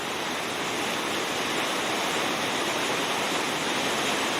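Loud, unbroken roar of a rushing river pouring over and piling up against rocks, close and steady with no voices.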